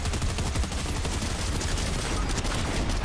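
Rapid video game gunfire, a continuous loud barrage of shots from a shotgun and other guns during an online match, filling the whole stretch without pause.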